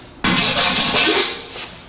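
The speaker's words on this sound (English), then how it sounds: "I'm doing just a little picking, a little filing" A rough, scraping rasp repeated in several quick back-and-forth strokes, close and fairly loud, like a hand file working against the rusty metal of a 1948 Silver King Model 42 tractor.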